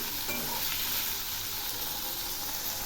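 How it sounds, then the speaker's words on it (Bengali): Chopped onions and potato pieces fry in hot oil, a loud steady sizzle running the whole time with faint stirring underneath. "প্রথমে আমি এই পেঁয়াজ আর আলুগুলো খুব ভালো করে ভেজে নেব।"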